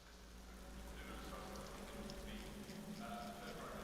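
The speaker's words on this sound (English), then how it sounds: "we are in full rain conditions" Steady rain hisses across the track in Assetto Corsa Competizione at Silverstone, a dense, even wash of full wet-weather spray with faint engine tones running beneath it throughout.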